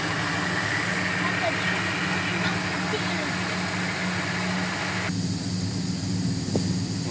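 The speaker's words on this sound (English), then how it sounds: "this is what it sounds like when you have 3 of them idling at the same time" Three Ford AU sedans idle together, making a steady, continuous engine rumble with an even drone and no revving.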